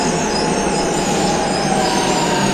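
A Milan metro train rolls along with a dense, steady roar of wheels on rail and a faint high squeal, loud and close for a short stretch with no voices.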